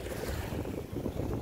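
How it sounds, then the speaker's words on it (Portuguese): Strong wind buffeting the microphone on a tilapia fishing trip in Riolândia, São Paulo, a steady loud roaring rumble that covers everything, with no voices. "Desculpa o vento aí, pessoal, que tá ventando demais."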